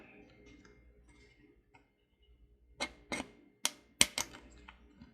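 Scissors snip into a thin plastic bottle while a bird feeder is being made, giving a few sharp, crisp clicks and crunches in quick succession after a quiet stretch, close to the microphone.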